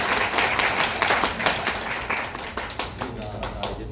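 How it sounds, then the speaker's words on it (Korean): An audience at a magic show claps in a dense burst of applause that thins into scattered, separate claps toward the end, with voices faintly mixed in. "자, 들어가서 박수 주세요"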